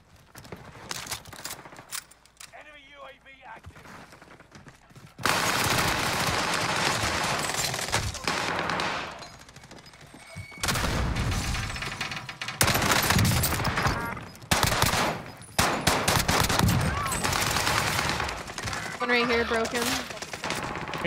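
Video game gunfire from sniping play, long loud stretches of rapid automatic fire and shots through walls, with short pauses and a player's voice talking between bursts.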